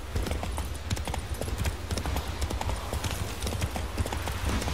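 Horse hooves trot in a steady, rapid clip-clop rhythm in the video game Witcher 3, close and continuous over a low rumbling ambience.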